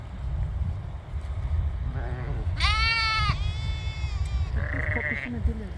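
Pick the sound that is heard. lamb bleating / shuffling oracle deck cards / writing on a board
lamb bleating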